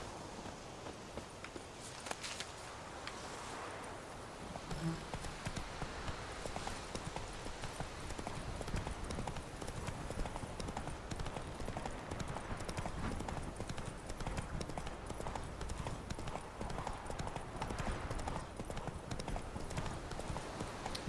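The horse Roach being ridden in The Witcher 3 game: steady, rhythmic hoof clip-clops on the ground, continuous and fairly close, with a faint voice talking now and then.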